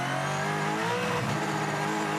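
Supercars race cars lapping the Sandown circuit during qualifying, a steady continuous engine roar with layered revving, loud and close throughout with no talk.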